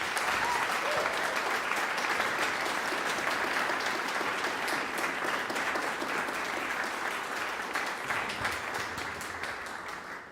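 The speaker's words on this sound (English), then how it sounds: "we'd all love to give them another warm round of applause" A warm round of audience applause at a university convocation, a continuous even wash of clapping that holds steady and fades slightly toward the end.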